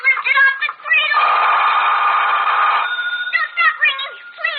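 An old-style telephone bell in a radio drama rings in repeated bursts, then one long sustained ring before short rings resume, loud and close, with a voice speaking between the rings.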